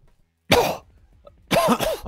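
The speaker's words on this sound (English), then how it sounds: "I'll cut the coughing out." A person coughs and clears their throat in two separate harsh bursts, close and loud, with near silence between them.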